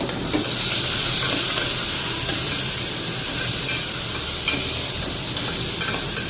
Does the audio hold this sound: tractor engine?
no